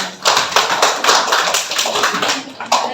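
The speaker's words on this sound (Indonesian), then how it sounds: "Tepuk tangan dulu Ibu." An audience at a tuberculosis prevention and treatment education session claps in quick, uneven bursts for a few seconds. The applause is close and fairly loud, with no talking over it.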